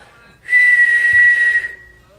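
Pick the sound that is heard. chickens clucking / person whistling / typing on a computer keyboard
person whistling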